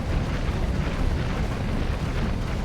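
Mines going off in BattleTech, BTA 3062 mod, make a loud, dense, continuous rumbling roar of blasts, heavy in the low end, with no distinct gaps and no talk.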